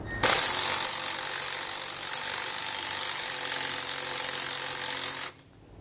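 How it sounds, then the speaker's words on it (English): A ratchet fitted with a 9/16 socket tightens flange nuts while installing helper springs on a 2020 Ford F-53, heard as one steady, loud, dense stretch of mechanical clicking that runs about five seconds alone and then stops abruptly. "Then we'll come back with a 9/16 socket, and we're going to tighten up both of those flange nuts."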